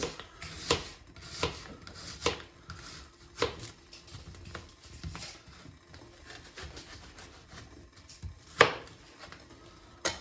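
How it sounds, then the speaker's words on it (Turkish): Onions sliced into rings with a knife on a board, a series of irregular, fairly quiet chopping taps and soft crunches, with one sharper cut near the end and light rubbing between strokes. "Soğanlar da halka şekilde arkadaşlar şu şekilde bölerek tepsimize diziyoruz"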